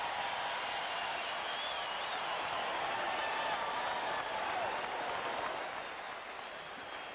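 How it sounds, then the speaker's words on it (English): A basketball arena crowd cheers and applauds after a 1984 NBA play, a broad, steady roar of many voices and clapping heard from a distance before easing slightly near the end. "Most of those people up cheering can't quite believe what they saw Rambis do."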